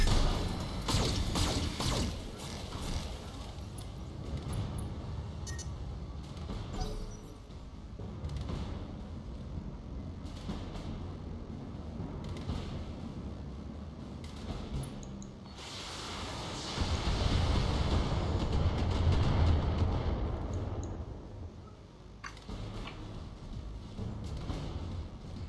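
Mech weapons firing in the BattleTech (2018) video game, a dense barrage of thuds, whooshes and crashing impacts sustained over mechanical rumble, swelling louder in a heavy burst near the end.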